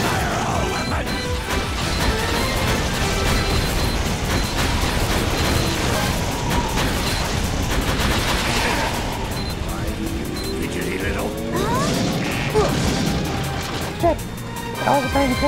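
Weapons fire and crashing impacts in the Sonic Unleashed video game, a loud, dense barrage of smashes, bursts and booms running almost continuously, with game voices and music mixed in.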